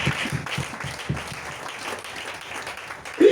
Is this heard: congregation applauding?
yes